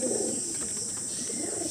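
In a loft of desi Madrasi pigeons, a Kaldom pigeon coos in a low, throaty murmur that rises briefly, near and gentle over a steady background hiss.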